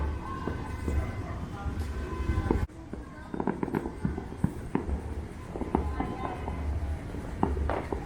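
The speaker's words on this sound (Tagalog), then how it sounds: "They are now lighting up the fountains." Firework fountains hiss and crackle during a Philippine New Year celebration, a continuous sputtering spray with scattered pops and crackles at moderate distance, and voices and street noise mixed in.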